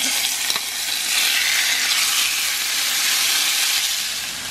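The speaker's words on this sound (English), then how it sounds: "now I'm just going to add in my steak and cook it for about 2 minutes" Steak searing in very hot olive oil in a cast iron skillet gives a loud, steady sizzle with a broad hiss that swells slightly after the first second and holds without pause, with no talk over it.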